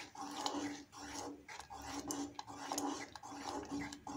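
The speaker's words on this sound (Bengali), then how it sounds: "আর এখন দিচ্ছি ঘি, 1 চামচ ঘি দিচ্ছি খিচুড়ির মধ্যে।" A spoon scrapes and clinks against a pot while adding a spoonful of ghee to thin vegetable khichuri, giving close, continuous metallic scraping and stirring with a steady background hum.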